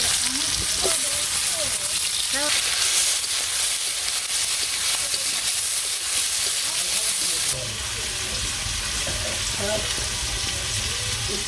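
Onion and tomato paste sizzle loudly in a pan of village-style chicken curry, with a steady close frying hiss and occasional stirring scrapes. The level drops slightly partway through.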